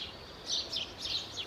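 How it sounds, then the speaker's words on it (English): Birds chirp in the early morning just before sunrise, a few faint, high, repeated tweets over a soft hiss of background noise, no voices. "The birds are chirping away."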